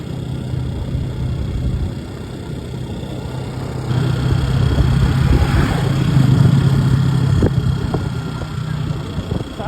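A motorbike ridden one-handed along a route in Khotang, Nepal, its mid-pitched engine droning steadily and growing louder partway through, with wind noise and no talk over it.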